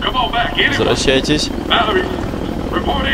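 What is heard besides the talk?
helicopter in the video game The Walking Dead: Survival Instinct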